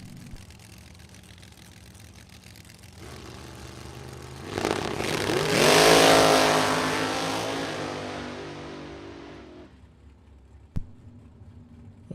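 Drag racing cars on a strip launch and accelerate down the track, the engine roar building quickly to a loud peak around mid-run and then fading into the distance as they back off, with a sharp click near the end.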